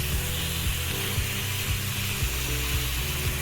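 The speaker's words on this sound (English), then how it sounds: "You hear that sizzle?" Chicken thighs sear on a hot electric hot pot grill with a steady, close, continuous sizzling hiss. A faint repeating low mechanical ticking runs underneath it.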